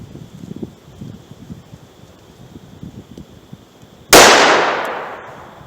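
A single sharp gunshot from an Aguila 158-grain jacketed soft point round, fired outdoors at a wood penetration target, cracks loud and close, then rings out in a long decaying tail after quiet rustling background.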